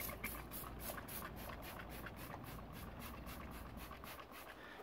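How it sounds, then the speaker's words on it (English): Rapid bursts of all-purpose cleaner sprayed from a trigger bottle onto an air filter, a quick series of hissing squirts repeating steadily over a low background hum. "So I'm just gonna spray on there."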